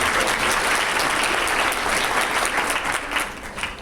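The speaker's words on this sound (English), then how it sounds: "let's give my hand clap one more time" A convention audience at a Colorado PTA keynote claps steadily, a dense wash of many hands filling the room at close, even loudness with no talk over it.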